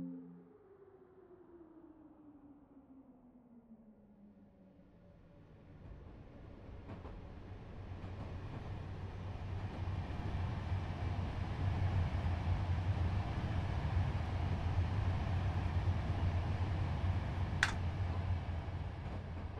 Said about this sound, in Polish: Czekamy, aż przejedzie pociąg ECE